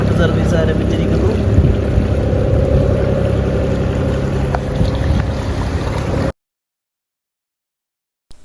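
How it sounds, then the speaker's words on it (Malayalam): A boat's engine runs steadily on open water near Dubai as a boat service begins, a loud continuous drone with wind and water noise for about six seconds before cutting out to silence. "ബോട്ട് സർവീസ് ആരംഭിച്ചിരിക്കുന്നു."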